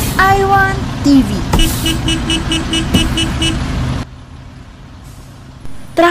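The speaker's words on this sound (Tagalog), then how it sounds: "Traffic na naman." Congested road traffic with cars, buses and trucks: a dense engine rumble broken by short horn toots and a hiss of air brakes, then quieter idling before another burst of noise near the end.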